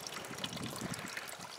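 A small fresh-water spring in the Davis Mountains trickles steadily, a soft continuous burble and hiss heard close and alone, fairly faint.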